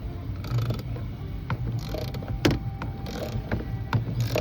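A ratchet works a long T50 Torx bolt with thread locker on a dump truck seat mount, giving repeated mechanical clicks and clunks at close range with short pauses between strokes.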